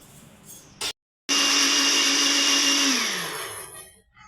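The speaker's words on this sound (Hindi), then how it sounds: "इसको मैं कर लूँगी पहले ब्लेंड।" A kitchen blender whirs loudly and steadily, blending cream with sugar, starting after a brief burst and stop, then winding down and fading out near the end.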